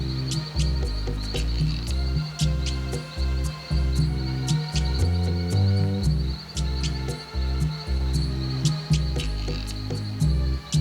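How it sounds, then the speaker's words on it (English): Colostethus frogs call beside a rainforest stream: loud, close, rapid chirping pulses in regular bursts separated by brief pauses, over a steady high insect hiss. "where the first thing we noticed was the huge population of frogs"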